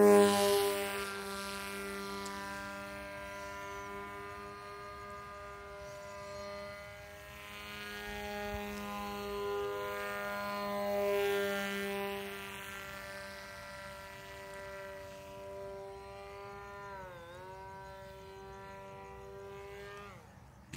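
A homemade radio-controlled airplane flies with a steady, buzzing electric motor and propeller whine that drifts in pitch and loudness as it passes, with a sharp dip and swoop near the end.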